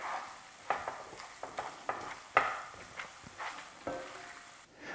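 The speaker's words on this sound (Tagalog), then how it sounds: "itutuloy ko lang ang pagluto dito hanggang sa talagang maging mantika na lahat" Coconut milk frying down in a pan into oil and latik, a soft sizzle under intermittent scraping and knocking strokes of a spoon stirring, fairly quiet and close.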